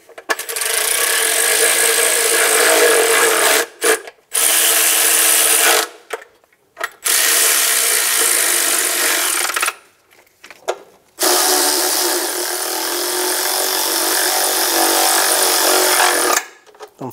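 Bolts on a Toyota Tundra 4.7L V8 timing belt cover being snugged down with a ratchet, loud close rapid clicking in several long bursts separated by brief pauses.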